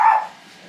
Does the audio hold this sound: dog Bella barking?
yes